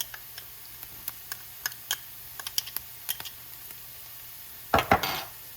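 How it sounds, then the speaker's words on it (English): A spoon clicks and scrapes as garlic is stirred into caramelized onions in a hot pan, sparse light taps over a faint sizzle, closing with a louder brief scrape. "Get this stirred in and allow it to cook for about 30 seconds"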